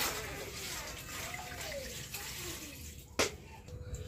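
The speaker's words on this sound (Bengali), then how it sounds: "3 কলসি পানি দিচ্ছি কলের পানি" Tap water runs steadily into clay water pots, a continuous splashing wash close by, with a sharper knock partway through as a pot shifts; a voice murmurs faintly underneath.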